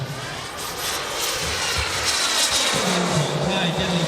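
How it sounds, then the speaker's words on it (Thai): Scale 1:5 RC F-16 model jet in Netherlands livery, powered by a KingTech turbine, flying at the Thailand Jet Meeting 2020 airshow; a steady turbine whine and rushing roar holds throughout, swelling slightly as it passes, with faint crowd voices beneath. "เป็นการโชว์สมรรถนะเครื่องบิน F16"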